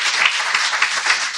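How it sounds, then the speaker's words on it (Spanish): An audience applauds sponsors at the opening ceremony of a Smart & Green LATAM forum, a brief burst of dense, even clapping at moderate level. "por favor un aplauso para ellos"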